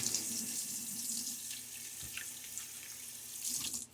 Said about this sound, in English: Nice, cool, room temperature type refreshing water that I use for rinsing.